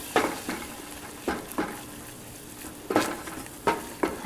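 A spoon stirs a flour roux in a hot pan, giving scattered scraping strokes over a faint sizzle, quiet and close.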